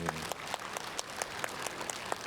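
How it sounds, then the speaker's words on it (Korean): Audience applause at a democracy and human rights talk concert, moderate and fairly close, with individual sharp claps standing out in an uneven rhythm over a softer crowd background. "여러분 박수 한번 부탁드리겠습니다"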